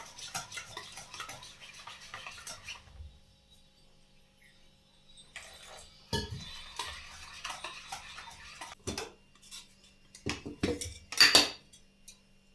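A spoon stirs and scrapes through dhokla batter mixed with a spoonful of oil, giving sparse metallic clinks and scraping strokes with quiet pauses between, a few sharper taps toward the end, no talking.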